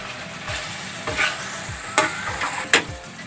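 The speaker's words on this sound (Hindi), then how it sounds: "ये हमने डाल दी इसमें कचनार, फिर हम इसे करेंगे अच्छी तरह से मिक्स" Kachnar buds stirred into sizzling minced meat in ghee, a steady frying hiss broken by a few sharp scrapes and clacks of the spoon against the pan.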